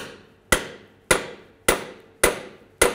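Five sharp metallic hammer blows, struck about half a second apart, knocking a front CV axle loose on a 2006-10 Volkswagen Jetta. Each strike rings briefly and sits close and loud in a quiet garage.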